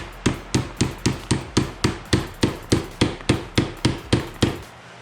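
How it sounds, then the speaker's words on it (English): A hammer drives a plastic tab into a Ford Mustang bumper bracket, about seventeen sharp, evenly spaced blows struck in quick succession up close, each ringing briefly before the next. "get a straight up hammer and hammer in this plastic tab."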